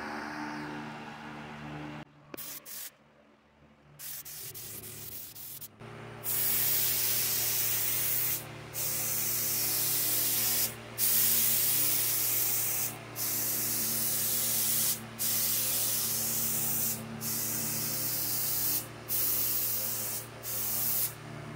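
A spray gun lays the first coat of paint on a Dodge Neon, a loud steady hiss in repeated passes broken by brief regular pauses, following a few quieter starts.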